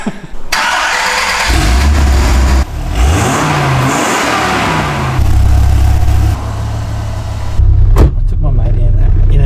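A Dodge Viper with a 400 horsepower engine starts up and revs hard from close range, a loud roaring engine that swells, drops and climbs again over several seconds, with a sharp knock near the end.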